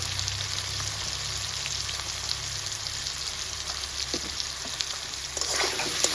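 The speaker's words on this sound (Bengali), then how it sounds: "আলুটাকে সুন্দর করে ভেজে নেব।" Steady sizzling of potatoes frying in oil, a continuous crackling hiss with scattered pops, moderately loud and uninterrupted by any voices.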